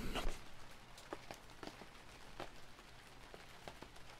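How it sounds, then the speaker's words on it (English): Steady soft rain patters in the background of the video game Thief 2 (fan mission Sturmdrang Peak), with scattered louder drips and taps spread irregularly across a quiet scene. "Just listen to the sound of that rain."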